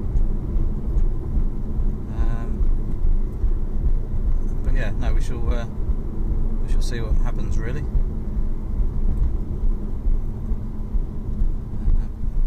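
A steady low engine rumble and road noise from a car moving through slow traffic run throughout, while someone talks over it.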